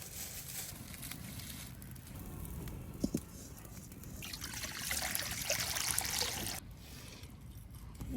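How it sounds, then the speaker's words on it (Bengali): Lentils (dal) are washed in water in a village kitchen, with soft trickling, sloshing and dribbling throughout. A brief clink lands early, and a louder splashing pour comes near the end, all quiet and close with no talk. "ডালটা পরিষ্কার করে ধুয়ে নেব।"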